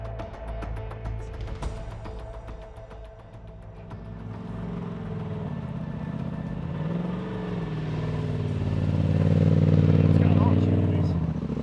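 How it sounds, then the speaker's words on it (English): Trophy truck engine with a worn, knocking bearing, running loud and close, its rumble swelling toward the end as people talk nearby. "If that exhaust wasn't, you'd hear like that's like a bearing knock."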